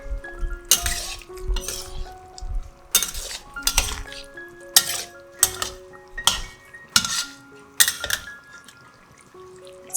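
A metal spatula clanks and scrapes against a wok while tofu puffs and vegetarian ingredients are stir-fried, giving about eight sharp, ringing clinks at uneven intervals with quieter scraping between them.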